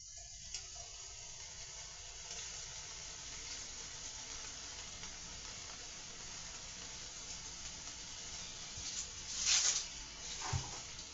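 Butter melting in a pan before cabbage and canned corned beef go in, a soft steady sizzle with faint crackles, punctuated near the end by a couple of louder clanks.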